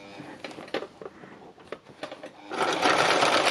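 A sewing machine stitches fabric in short bursts that build into a loud continuous run near the end, as coloured decorative stitching is added around tulip shapes.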